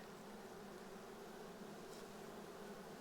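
Honey bees in a hive being moved by a beekeeper make a steady, dense buzzing hum, close and even throughout with no voices.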